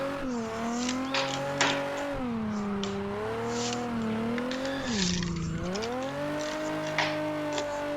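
Car engine in a racing video game on the Nikko circuit, a steady droning rev that rises and falls through gear changes and corners, with brief scrapes and tire noise, loud and continuous throughout.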